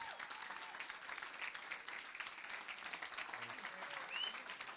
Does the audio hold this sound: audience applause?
yes